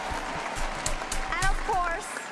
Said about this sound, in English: Yeah, big clap for that.